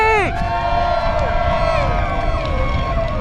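Large crowd of race fans cheering and shouting at the Pikes Peak International Hill Climb, a loud sustained roar with a voice calling out over it near the start.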